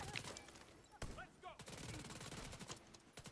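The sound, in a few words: gunfire in the video game The Division 2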